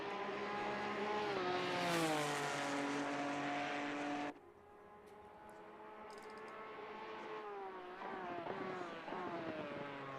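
A GT4 race car in Assetto Corsa Competizione screams at high revs, the engine note climbing and dropping through gear changes, then fading as the car passes before revving up again, loud and steady with no voices.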